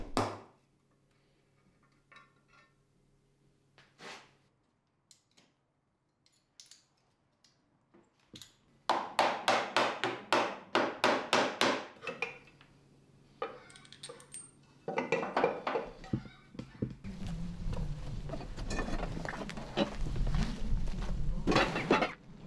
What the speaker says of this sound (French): Si un couvercle ne cède pas directement, vous pouvez le décoincer avec quelques coups de marteau.